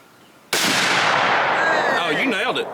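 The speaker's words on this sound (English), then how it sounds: "She decided to shoot 308, which is my gun" A single .308 hunting rifle shot cracks sharply and loudly at close range, then rolls out in a long, fading echo.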